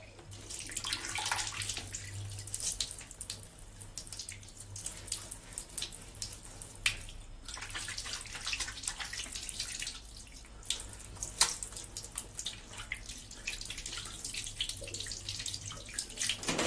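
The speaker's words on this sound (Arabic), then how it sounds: "صافي غادي نغسل وجهي" Tap water runs and splashes at a sink during face washing, a soft, continuous trickle broken by irregular splashes and drips, heard fairly faint and close with no talk.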